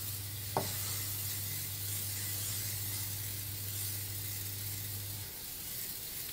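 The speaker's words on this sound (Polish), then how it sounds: "do smażenia używam oleju w sprayu, lekka cienka warstwa." Spray oil is misted in a light, thin layer onto an electric hot plate heated to setting seven for frying, producing a steady even hiss with a low hum that stops near the end.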